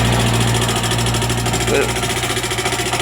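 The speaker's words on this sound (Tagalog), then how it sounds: "parang pinupukpok ng martilyo yung makina niya" A Yamaha FZ motorcycle engine idles steadily up close, its low rhythmic knocking, like hammer blows inside the engine, running continuously throughout.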